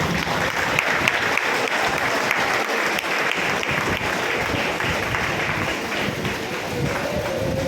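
Audience applause at a Tamil public event providing welfare aid to people with disabilities, welcoming a minister and guests; dense, steady clapping from a large crowd fills the whole stretch without letup.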